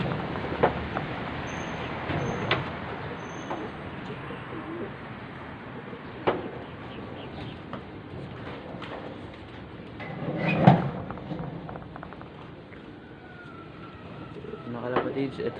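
Racing pigeons coo at the loft during a club release in Lucban, Quezon, with soft low coos scattered over a busy, noisy background and occasional louder knocks and rustles.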